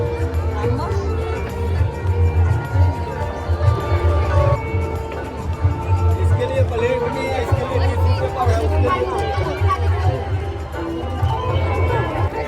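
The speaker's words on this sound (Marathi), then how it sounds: "काय बाबा ही गर्दी आहे." Dense crowd babble at a wedding in Ghansoli, Navi Mumbai, a steady hubbub of many overlapping voices and movement filling the whole stretch at moderate loudness, with no single voice standing out.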